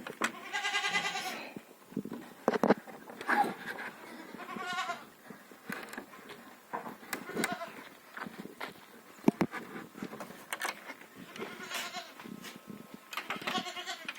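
Goats bleat repeatedly and loudly on a village farm in Ukraine in the morning, several overlapping calls close by, with shuffling and rustling noises between them.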